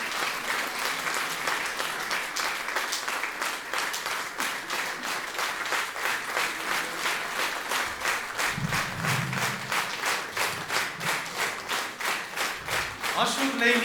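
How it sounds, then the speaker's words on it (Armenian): An audience at a school concert warmly welcomes an ashugh folk singer with sustained, even applause from many hands that fills the hall, joined later by a low murmur of voices. "բարձր ծափարություններով դիմավորենք մեր սիրելի աշուղին"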